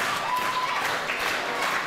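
A wrestling crowd at a W3L wrestling show claps and applauds for wrestler Jason Reed in a brief, steady wash of mid-distance applause, with faint crowd voices mixed in.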